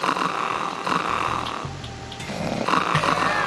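A sleeping guard in the video game Metal Gear Solid 2 snores loudly and close in slow, rasping, rhythmic breaths that drown out the background game sounds.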